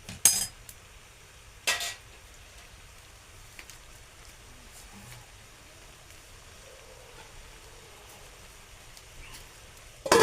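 A lid set on a pan of bitter gourd makes a few sharp metallic clanks, one at the start and another soon after, then a quiet stretch before a final clink.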